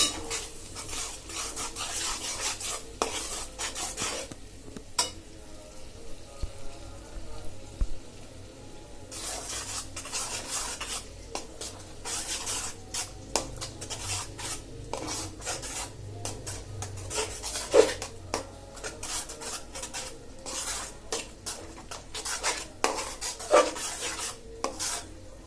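Blended spice paste is stir-fried in a pan for a fish-head winter mixed vegetable curry. Close, rhythmic rubbing and scraping strokes repeat over a low sizzle, with no talk.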